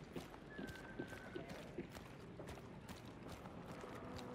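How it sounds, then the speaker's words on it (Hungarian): Galloping horse hooves in the game Hunt: Showdown, a fast clip-clop rhythm running through a busy, noisy game scene, fairly faint in the mix. "Ló."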